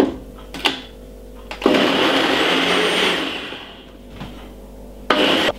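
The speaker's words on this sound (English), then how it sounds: "And blend this about 4 to 5 minutes. On a ninja blender." Ninja blender running loud and close while blending apple, ginger and lemon juice, a steady roaring whir that starts, dips and surges, with short pulses at the edges.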